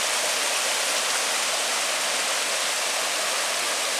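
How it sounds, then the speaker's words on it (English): New Year's Creek in Blowing Rock rushes continuously nearby toward a waterfall, a dense, even roar of flowing water with no voices. "here's New Year's Creek as it's growing some momentum to go over the falls"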